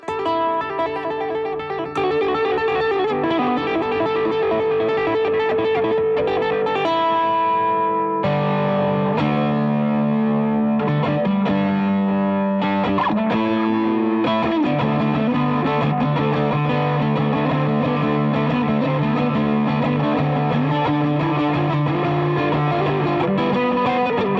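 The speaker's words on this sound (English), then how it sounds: "if you need solos and stuff, you want a bit of delay on there" Bright plucked ukulele notes ringing out through a repeating delay, a melodic line with lingering echoes, steady and fairly loud throughout.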